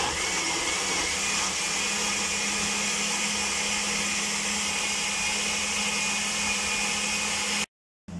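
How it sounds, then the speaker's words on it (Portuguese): An electric blender pureeing carrots, eggs and sugar for carrot brioche batter, a loud continuous whirring drone held for several seconds before cutting off abruptly, with no talking. "Agora vamos triturar isto tudo muito bem triturado."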